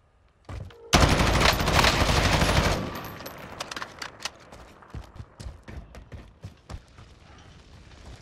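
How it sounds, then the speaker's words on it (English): Unsuppressed gunfire in Call of Duty: Warzone, a loud burst of rapid automatic fire lasting about two seconds, followed by scattered, fainter shots and impacts echoing at a distance. "They're shooting unsuppressed."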